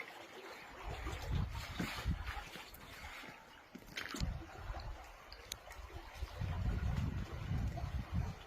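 A motorboat crossing the Setë canal, about 3 km away, in spring; a low, steady engine rumble mixed with wind and water noise, fairly distant and continuous throughout.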